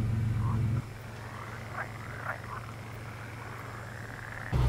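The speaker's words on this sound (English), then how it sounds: "The frogs going in the background." In the SnowRunner video game, frogs croak in the background in a few short, faint calls over a steady low engine-like hum.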